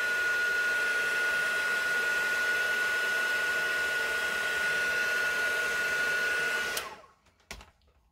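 A hair dryer blasts a loud, steady whoosh while drying paint on a galvanized metal pumpkin plaque, running close and unbroken for several seconds before clicking off and leaving a few faint knocks.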